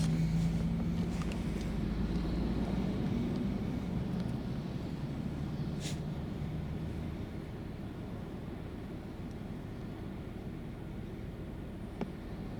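A 2013 Toyota Highlander with a 3.5 V6 running on LPG through a Landi Renzo gas system, pulling away with a steady, fairly quiet engine and road rumble heard from inside the cabin, a faint click near the end.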